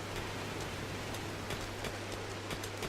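Steady rain in the colony-building video game RimWorld, a continuous dense hiss of falling drops with faint irregular ticks, even and uninterrupted throughout with no voices.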